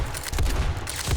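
Several sharp gunshots in the survival game 7 Days to Die during a night zombie horde, firing in quick succession close by, loud and punchy with a short gap between bursts.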